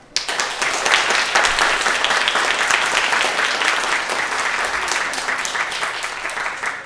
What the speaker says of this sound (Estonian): Nii et teeme neile suure aplausi.